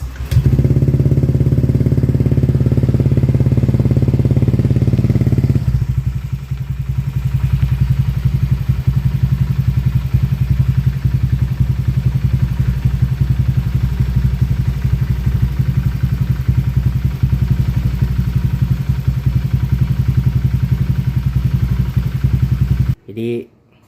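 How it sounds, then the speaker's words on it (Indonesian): A Honda Vario 150 scooter engine idles steadily at close range, running loud at first and then settling into a lower, even putter for about twenty seconds before cutting off. "Jadi kita coba hidupin si mesinnya."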